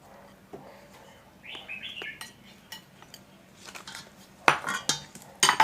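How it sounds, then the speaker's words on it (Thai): Tapioca and rice flour being stirred into plain water for a Thai rat na sauce, with utensils clinking and scraping against a bowl in sharp, irregular taps that grow louder near the end, plus some faint high chirps. "เทแป้งทั้งสองอย่างใส่ลงในน้ำเปล่าเลยนะคะ แล้วก็คนให้แป้งละลายค่ะ"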